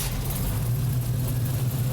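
A fuel-injected car engine runs at a steady idle with a smooth, constant low rumble and hum, close by with no talk.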